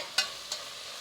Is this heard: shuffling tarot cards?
no